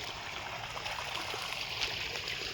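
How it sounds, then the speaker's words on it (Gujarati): A steady, gentle rush of irrigation water flowing into a wheat field, like a small stream running through a channel, continuous and fairly quiet with no voices. "આજ પાણી ચાલુ કર્યું છે આપણા ઘઉંમાં"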